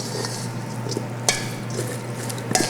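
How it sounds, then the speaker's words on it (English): Roasted broccoli is tossed in a tahini mixture with tongs or a spatula, making soft, wet stirring and squishing over a steady hum, with a couple of sharper knocks. "use tongs or a spatula to coat the broccoli with the tahini mixture well"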